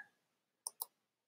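Two crisp computer mouse clicks land close together, sharp and near against near silence, while someone works with the curve tool in Google Drawings.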